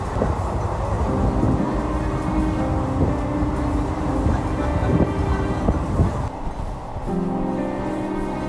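A Jannayak Express passenger train running on the rails between Gorakhpur and Raxaul, heard from inside as a loud, continuous rumble with rattling and faint clickety-clack beats, steady over the whole stretch.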